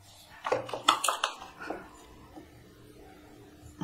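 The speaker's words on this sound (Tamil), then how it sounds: "சுட சுட சாப்பாடை கொஞ்சம் தட்டில் போட்டு நம்ம வதக்கி வச்ச கீரை மேலாக கொஞ்சம் தூட்டு" Hot rice spooned from a pot onto a plate over sautéed spinach, a few close clinks and scrapes of a utensil against metal dishware in quick succession, then quieter handling.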